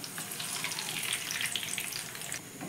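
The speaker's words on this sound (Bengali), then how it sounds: "দ্বিতীয়বারেও একইভাবে মিষ্টিগুলো আমি ভেজে নেব" Semolina sweets frying in hot oil, a dense, bright, bubbling sizzle holding steady at close range without any speech.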